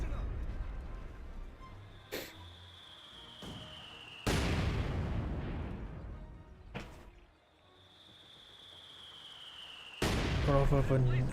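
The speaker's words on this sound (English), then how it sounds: "Good mortar hit there." Mortar shells striking in Company of Heroes 2, several sharp broadband impacts with rumbling decay landing in sequence, the heaviest around the middle and end, over game ambience and a commentator's voice.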